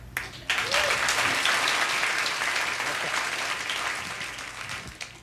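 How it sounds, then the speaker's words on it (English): A comedy club crowd from 1997 breaks into loud, dense clapping that rises suddenly and holds steady before thinning slightly toward the end, with a brief spoken word near the start. "How many people here smoke cigarettes? Clap."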